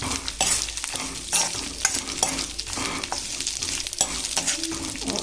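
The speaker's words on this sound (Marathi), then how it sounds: "आता आपला तेल गरम तर आपण आहे लसूण याच्यात टाकून देऊया" Garlic fries in hot oil in a pan on a stove, a steady crackling sizzle broken by repeated scraping strokes of a spoon stirring it, close and fairly loud, with no talking.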